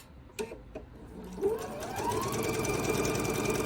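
A sewing machine stitching pieces of a quilt block starts with a few light clicks, then runs up into a steady, continuous whirring hum. It is close and clear, with no talking.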